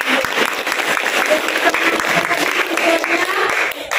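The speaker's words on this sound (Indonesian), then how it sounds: "Tepuk tangan." A classroom of students during a statistics lesson bursts into loud, dense applause that runs without pause and tapers slightly at the very end.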